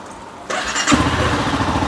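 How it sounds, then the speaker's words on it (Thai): Honda CBR300 motorcycle engine cold-started: a short starter whir, then the engine catches and settles into a steady, close idle with a firm low rumble. "มาสตาร์ทรถกันปึ๊บ"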